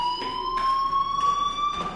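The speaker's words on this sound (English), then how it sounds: "do you hear that fire alarm? That means you should be outside." A school fire alarm in the video game Life is Strange rings as a steady, loud electronic tone that pulses continuously throughout, with no talking over it.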